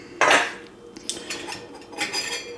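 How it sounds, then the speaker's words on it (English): The cover lifted off a Farberware stainless steel percolator, giving a close metallic clink and scrape followed by lighter rattling touches of stainless steel parts. "So we'll take off the cover."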